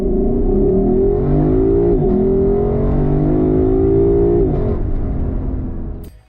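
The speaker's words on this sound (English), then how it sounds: "I think it's the best sounding naturally aspirated V8 on the market" Naturally aspirated V8 of a 2021 Lexus LC500 convertible, a loud, close, steady deep engine drone that rises in pitch, dips, climbs again, then fades out at the end.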